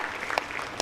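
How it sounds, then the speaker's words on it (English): A brief burst of steady crowd applause from an audience at a live televised event, even clapping at moderate level lasting under a second. "A big round of applause for Agiamondo again."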